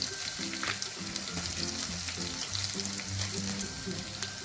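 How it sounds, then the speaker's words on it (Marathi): Spiced samosa filling with turmeric, garam masala, red chilli, salt and Maggi masala sautés in oil in a pan, a steady close sizzle with scattered stirring clinks and scrapes, no talking. "चांगलं परतून घ्यायचं. 1 मिनिटभर परतायचं, जास्त नाही."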